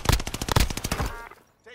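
Rapid automatic gunfire from a squad shooter video game, a close, loud burst of evenly spaced shots over about a second, trailing off into quiet with a faint voice at the end.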